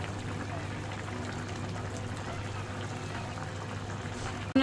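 Water poured into a pan of simmering fish curry, a steady continuous pour and bubbling that holds at an even level over a low kitchen hum for several seconds, then stops abruptly.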